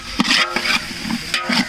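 Onions frying in a pot for village-style chicken biryani, stirred with a few scraping strokes over a soft steady sizzle, close and clear.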